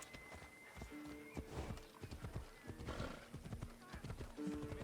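A horse in Assassin's Creed Odyssey canters with a rhythmic clip-clop of hooves and gives a brief whinny, with faint game ambience underneath.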